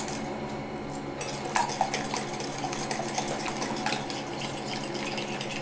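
A whisk beats cake batter in a bowl with rapid, continuous clinking and scraping, close and fairly loud, with occasional sharper taps against the rim.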